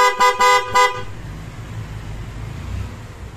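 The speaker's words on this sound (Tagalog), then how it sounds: "Busina." Three short, loud honks from a motorcycle horn newly fitted to a Honda ADV 160 or Bristol Maxie 400 scooter, sounding in quick succession up close, then giving way to a low idling engine hum.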